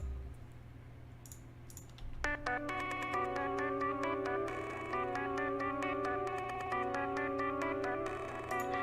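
A synth arpeggio processed with Glitch 2 reverser and retrigger effects enters after a low hum, its rapid stuttering repeated notes continuing steadily and fairly loud through the rest of the stretch.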